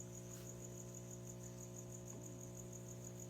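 A steady, unbroken high chirping of crickets fills a reptile tub over a low background hum, with no voices.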